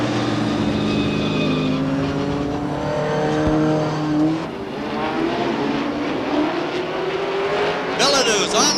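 Race cars at Beech Ridge Motor Speedway in 1989 scream past on the oval in a weekly race, engines rising and falling in pitch as they go by side by side, with an announcer talking over the roar.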